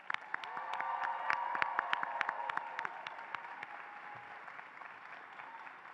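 An audience claps for new graduates at a spring 2023 university commencement, a burst of dense applause that swells and then gradually thins out, heard from a moderate distance.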